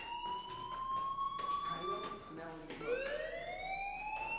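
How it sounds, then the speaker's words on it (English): A fire alarm wails in the Life is Strange video game, a steady rising electronic siren tone that holds throughout, loud and continuous with no talk over it. "do you hear that fire alarm?"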